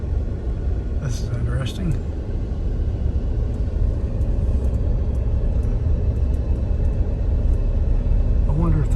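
A car rolls over the sand roads of White Sands National Park, giving a steady, close, low rumble of tyres and engine that runs the whole time under a person talking.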